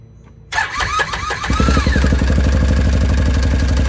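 A 2013 Can-Am Maverick side-by-side's engine cranks briefly, then catches and settles into a loud, rough, rhythmic idle up close.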